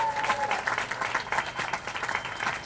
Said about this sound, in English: Let us welcome her with a big hand of applause for her leadership.